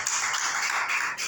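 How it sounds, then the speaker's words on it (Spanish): A church congregation claps together as an offering of applause during a worship service, a dense, steady wash of many hands at moderate distance, with no talking. "Regalémosle una ofrenda de palmas a nuestro Padre Celestial."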